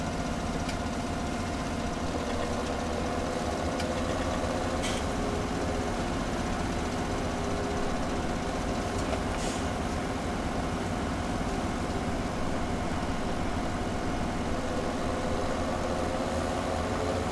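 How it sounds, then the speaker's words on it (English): A farm tractor's engine in the Farming Simulator 17 video game runs at a steady, continuous drone with an even low rumble, loud and unbroken from start to finish. "So let's now go to the next field here with this tractor."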